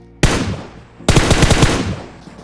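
Covering gunfire in the PUBG battle royale game: a short automatic burst, a pause, then a longer rapid volley of close, loud shots that decays into echo.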